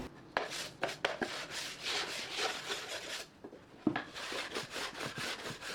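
Wood being rubbed and sanded by hand for a display shelf, a steady close scratchy rasping in repeated back-and-forth strokes with occasional knocks, with no talk over it.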